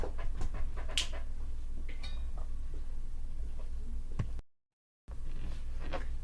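A dog pants indoors in a room, its quick, rhythmic breaths close and moderately loud, with a few small clicks and jingles along the way and a brief cut to silence near the end.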